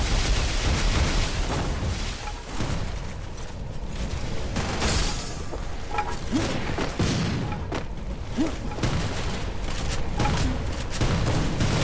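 Dense bursts of rapid video game gunfire and booming impacts fill the whole stretch, loud and continuous, with occasional mechanical clicks.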